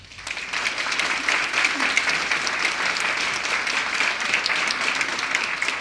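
Sustained applause from an audience at a mayor's New Year address in Chalette, a dense steady clapping that fills the room for several seconds without pause.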